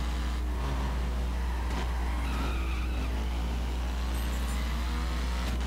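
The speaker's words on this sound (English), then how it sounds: "This is a perf time trial and you're specifically required to use the Ducati Diavel" Ducati Diavel motorcycle racing in a video game time trial, a constant loud engine drone under heavy low rumble with tire-skid noise and brief whooshes, unbroken for the whole stretch; no speech.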